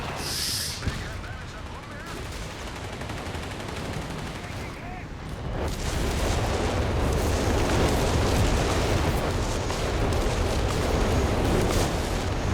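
Battle noise from Company of Heroes 3, a loud mine blast and gunfire in a 2v2 match, rising into a dense, continuous roar of explosions and shots over the last half, with a voice talking throughout.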